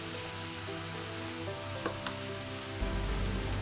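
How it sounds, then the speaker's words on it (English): Chicken and mushroom stuffing sautéing in a pan, with a dense, even sizzle under a steady low hum and a couple of faint clicks of stirring. "Saute it for some time"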